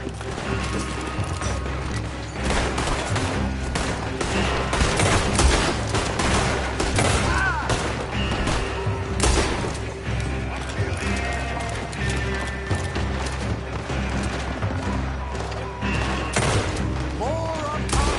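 Sustained gunfight in Red Dead Redemption 2, dense overlapping gunshots and volleys crackling through the whole stretch, with shouted voices and some hoofbeat-like clatter mixed in under a busy game soundscape.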